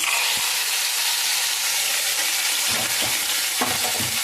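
Steady, loud sizzling of spices in hot oil, a continuous hiss with a few low thumps near the end.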